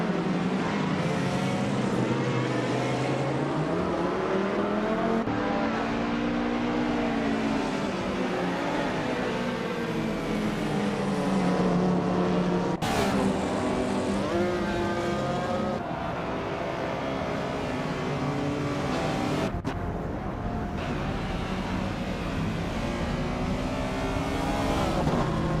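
Race car engines drone and rise in pitch as cars accelerate around a track in a racing video game, a continuous, loud layered roar with occasional passing whooshes, no talking.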